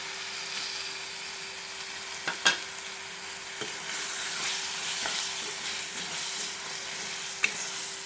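Cut quail pieces sizzle in a pan over softened, mashed tomato, a steady frying hiss broken by a few sharp clanks and scrapes as they are stirred, with no talking.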